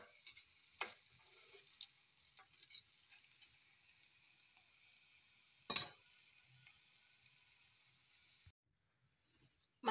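Spinach and Chinese pechay leaves frying in hot oil give a faint, steady high sizzle with a few sharp pops and crackles, then the sizzle cuts off near the end.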